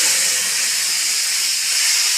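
Spice paste goes into hot oil already tempered with panch phoron and kalo jeera, producing a loud, steady, close hiss of sizzling that holds evenly for about two seconds.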